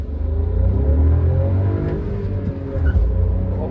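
A VW Virtus 1.0 TSI engine revs hard and accelerates with wheel spin into second gear, a loud, continuous low rumble rising and shifting in pitch throughout, close by with no talking.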